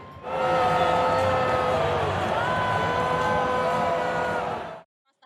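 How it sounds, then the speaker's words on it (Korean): Crowd in a stadium erupts into a sustained roar of cheers mixed with booing as President Trump arrives, a dense, loud wall of voices with drawn-out tones that holds for several seconds before cutting off abruptly. "트럼프 대통령이 등장하자 관중석에선 환호와 함께 야유가 터져나옵니다"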